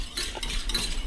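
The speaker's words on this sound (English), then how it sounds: "I'm gonna keep stirring it" A spoon swirls through wagyu fat-washed bourbon in a glass vessel, giving a brief, close run of soft stirring scrapes and light clinks.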